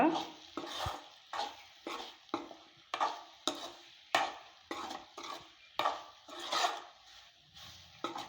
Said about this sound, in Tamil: நல்லா வந்து ஒரு முப்பது செகண்டு போல் வதக்கி விட்டுக்கோங்க